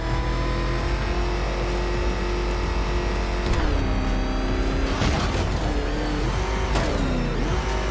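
The Batmobile engine in Batman: Arkham Knight roars continuously and loud, holding a steady drone before rising and dipping through several revving shifts in pitch.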